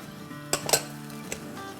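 A utensil stirs orange juice into orange chicken in a pan, giving a few quick metallic clinks and scrapes against the pan over a low steady background.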